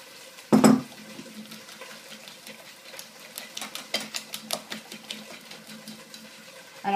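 Tortilla ingredients with salt being mixed in a bowl, one sharp knock at the start, then a rapid run of close clinking and tapping strokes.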